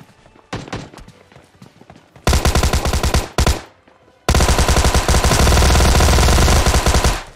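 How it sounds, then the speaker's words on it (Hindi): AKM rifle gunfire in a battle royale video game, heard as rapid automatic bursts that grow from a shorter volley to long, loud, sustained fire, close and dominant, with no talking. "अब पीछे से कोई एकेएम चल रही थी सेंट्रल रोड में ओपन से"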